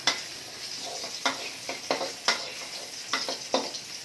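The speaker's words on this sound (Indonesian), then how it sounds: "Minyaknya udah panas, nanti kita baru masukkan bawang merah dan bawang putih." Shallots and garlic fry in hot oil with a steady close sizzle, broken by repeated clinks and scrapes of a utensil against the pan, about ten strokes in four seconds, with no voices.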